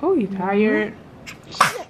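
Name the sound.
baby sneezing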